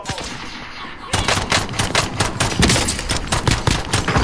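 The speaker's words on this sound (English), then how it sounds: "I got you down with a pistol." Rapid gunfire in Call of Duty: Warzone, loud and close, with a dense string of sharp shots starting about a second in and continuing to the end over quiet ambience.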